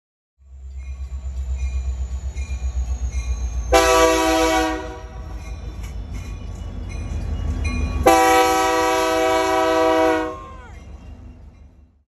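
An SD70M diesel locomotive rumbles past with a low steady engine roar, sounding two long, loud blasts of its horn, the second lasting about two seconds before the passing rumble fades away.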